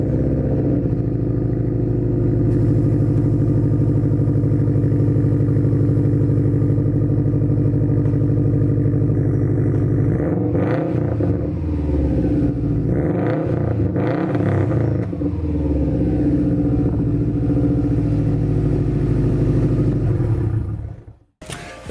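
An engine fitted with a modified straight-pipe exhaust, which has a failing muffler issue, runs loud and close with a deep, steady rumble and a few uneven surges midway, then cuts off abruptly near the end.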